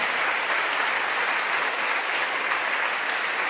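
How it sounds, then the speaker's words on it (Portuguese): A church congregation claps loudly and steadily during a worship service, with the dense, even applause filling the room without a break. "Pode aplaudir mesmo para valer"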